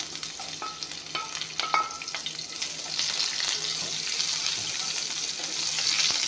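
Onion and bay leaves frying in a pan of hot oil, a steady close sizzle with scattered crackles and stirring clinks, growing slightly denser toward the end, with no voices.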